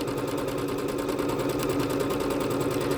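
A Bernette B-77 sewing machine runs steadily through a smooth back-and-forth decorative stitch, a close, continuous mechanical whir with a fast, even pulsing rhythm and no pauses.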